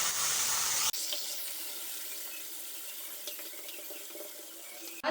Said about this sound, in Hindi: अब हम इसमें पानी का छींटा लगाएंगे और कुलचा डाल देंगे।